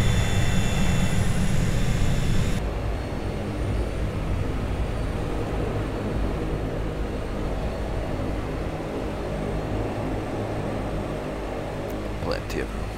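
Engines of an HS 748 turboprop airliner on approach, heard from inside the cockpit: a loud, continuous droning hum that steps down slightly in level after a couple of seconds, then holds steady.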